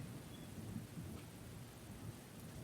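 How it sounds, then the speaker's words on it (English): A rain and thunderstorm ambience carries a quiet, steady wash of falling rain with a low, continuous rumble underneath, distant and unbroken throughout, with no voices. "The rain intensifies"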